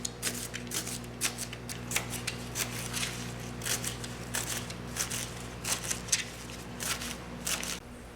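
Knife chopping bhaji leaves and stems together in a home kitchen, a steady run of crisp close cuts against a board with a constant low hum underneath, no talking.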